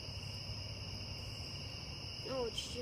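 Crickets trill continuously at night in a steady high drone. A brief low voice appears near the end.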